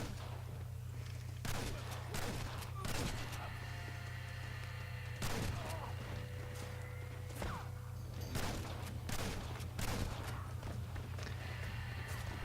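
Gunfire rings out at a gang hideout in the video game Red Dead Redemption, with several sharp shots spaced irregularly, faint and distant-sounding, alongside horse hoofbeats and whinnies.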